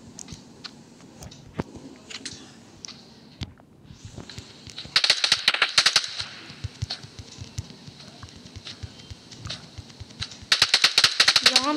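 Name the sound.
gunfire in the video game PUBG New State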